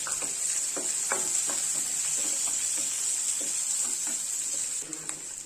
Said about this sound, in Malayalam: ഇതിലേക്ക് 3 പച്ചമുളക് കട്ട് ചെയ്ത് ചേർത്ത് കൊടുക്കാം. ഇതും കൂടിയിട്ടൊന്ന് വഴറ്റി കൊടുക്കണം.